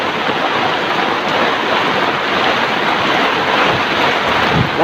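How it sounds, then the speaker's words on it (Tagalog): Strong storm wind from typhoon Carina roars loudly and continuously along a flooded coastal area, mixed with rushing surf and water noise and no pauses. "Lakas ang hangin."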